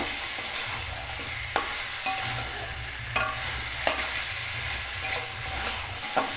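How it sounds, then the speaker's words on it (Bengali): Chicken sautés with potatoes that were fried beforehand. A steady pan sizzle runs underneath, broken by intermittent sharp clicks and scrapes as a spoon stirs the pan close by, and no one speaks. "এবার ভালো করে কষিয়ে নেব একটু কষানো হবে"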